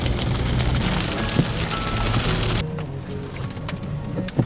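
Rain falls steadily on a dark, stormy day, a dense patter of drops on a surface that turns softer partway through, with no voices.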